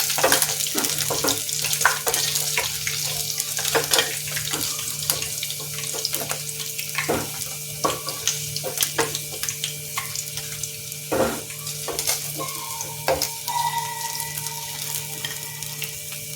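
Pangas fish frying in oil in a Bengali home kitchen: a steady, close sizzle runs throughout, scattered with sharp crackling pops and spits, and no one speaks.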